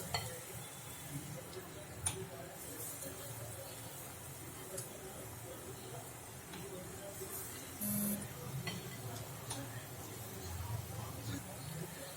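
Moong dal pakoras fry in medium-hot oil with a soft, steady bubbling sizzle and occasional light clinks of utensils. Faint talking is heard at times.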